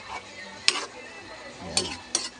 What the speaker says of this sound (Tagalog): So haluin muna natin.